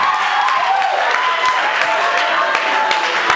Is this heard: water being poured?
no